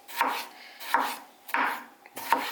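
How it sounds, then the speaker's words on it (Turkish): A Tefal Santoku knife slices a tomato in four crisp cuts, each a short crunchy stroke ending on the board, close and alone with quiet gaps between. "Domatesimizi keselim. Bir de domates kesiyoruz"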